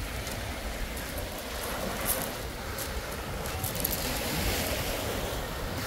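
Sea waves wash steadily onto a beach at a bay in Datça, Turkey, a continuous broadband surf hiss at moderate level with soft swells and no clear voices over it.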